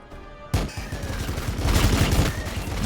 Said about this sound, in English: Let's use the blessed ammo here and shoot here.